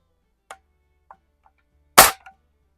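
A 1992 Crosman 760 air rifle fires one sharp, loud shot, preceded by a few faint clicks and followed by a short ring-off, with quiet surroundings otherwise.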